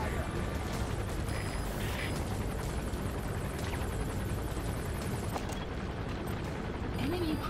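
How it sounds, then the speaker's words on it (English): A support helicopter in the video game Metal Gear Solid V: The Phantom Pain, a continuous rotor rumble and whir sustained under game effects and occasional faint voices. "Support helicopter requested."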